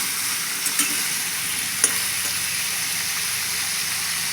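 Diced potatoes frying in oil with chilli and cumin, a dense, even sizzle close up with a couple of faint utensil taps.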